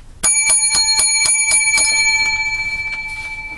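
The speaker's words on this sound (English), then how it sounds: "Seven lucky bells." A small bell struck in quick succession, about seven bright metallic rings in a steady rhythm, loud and close, then a long ringing decay fading alone.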